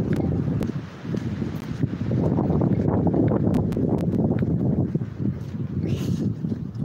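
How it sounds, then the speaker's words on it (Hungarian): Strong wind buffets the microphone outdoors, a loud continuous roaring rumble with gusts and scattered rustling and knocks, no speech. "Hogy kéne menni, hogy ne fújjon annyira a szél?"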